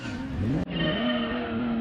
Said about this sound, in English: Revving up at number 11 is Gran Turismo 2.